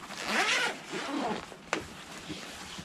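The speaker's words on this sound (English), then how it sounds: "See what it looks like when we unzip it." A zipper is pulled open along a padded 36-inch double rifle backpack case in a few quick sweeping strokes, ending in a sharp snap; nearby and fairly quiet, no speech over it.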